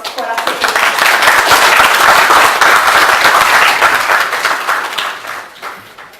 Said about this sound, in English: Can we have a huge round of applause for our secretary?